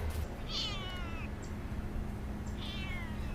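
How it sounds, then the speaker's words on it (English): A neighbor's cat meows twice outdoors, each cry drawn out and wavering, set against steady low background noise. "That's the neighbor's cat."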